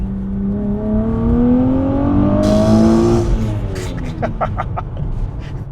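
A 505 WHP Nissan Z with upgraded turbos and a Nismo twin-disc clutch pulls hard, its engine note climbing loud and close before a shift and a quick drop in pitch.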